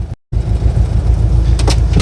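A 1972 Saab 95 wagon rolls along a road, its engine hum and road rumble steady and close inside the cabin after a brief dropout, with no talking.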